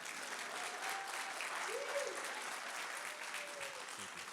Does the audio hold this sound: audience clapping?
yes